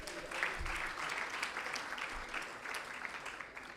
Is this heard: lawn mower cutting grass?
no